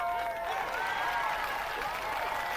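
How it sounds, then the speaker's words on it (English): A crowd of game characters cheers together at the Harvest Fair in the video game Neverwinter Nights 2. The voices form a steady, dense roar with some clapping and hold for the whole stretch. "3 cheers for the Harvest Champions. Hip hip hooray!"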